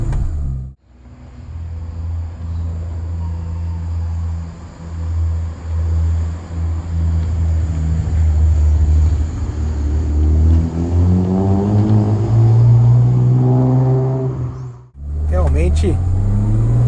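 Exterior engine note of a Ford Escort XR3 fitted with a V6, a loud steady rumble that climbs in pitch as it revs hard toward the end, with talk over it.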